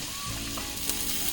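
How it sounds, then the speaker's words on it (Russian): Onion fries in melted butter in a pan, giving a close, steady crackling sizzle throughout. "растапливаем в ней сливочное масло и обжариваем лук до золотистости"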